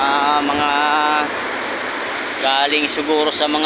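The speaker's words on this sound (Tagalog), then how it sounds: "Napakalalaki po na po ng alon." Large ocean waves in the rainy season roar in a steady, loud wash of surf close by, while someone talks over the crashing water.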